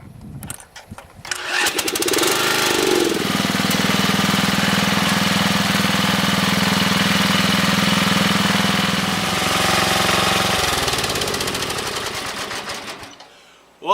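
A small MTD lawn tractor engine cranks on a new starter, catches and runs loud and steady for several seconds, with a strong low hum and rattling mechanical noise, then winds down and stops.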